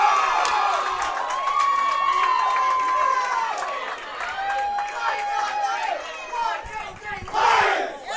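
A high school bowling team shouts a loud group cheer at the state finals, voices yelling together in rising chants with crowd noise and scattered clapping in a large venue.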